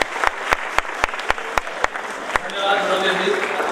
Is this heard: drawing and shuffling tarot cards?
no